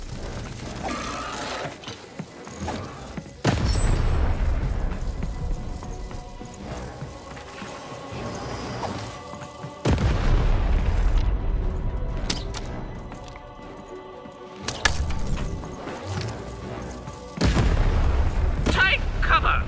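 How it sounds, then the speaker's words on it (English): Heavy booming cannon blasts in the video game Lost In Random go off several times at intervals, loud and close, among game-like clatter and background noise. "Shoot the button to fire the cannon."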